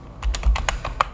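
Quick typing on a computer keyboard during a Kali Linux install: about half a dozen close, crisp key clicks in an uneven burst, with no talking.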